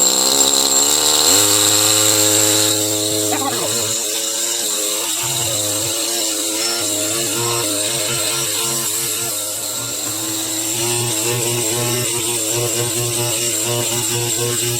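A power tool grinds steadily away at rock around a fossil crab concretion from Washington, a loud continuous whine that shifts pitch as the cutting load changes, running alone for about fifteen seconds.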